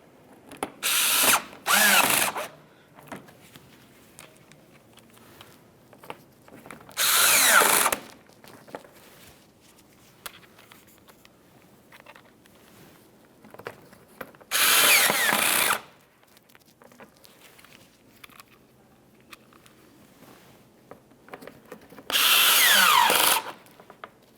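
Power drill driving Phillips head screws beneath the front bumper cover of a 2012-2018 Nissan Altima during headlamp assembly installation; four separate loud bursts of whirring, each one to two seconds long, spaced apart with quiet workshop noise between them.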